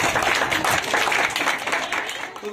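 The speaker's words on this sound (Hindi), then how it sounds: "ताली बजाओ।" Children at a birthday celebration clap together in a lively, fairly close burst of applause that carries through and starts to thin toward the end.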